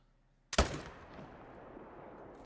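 A single rifle shot fired at a deer in theHunter: Call of the Wild, one sharp loud crack followed by a rolling echoing tail that fades into quiet outdoor ambience.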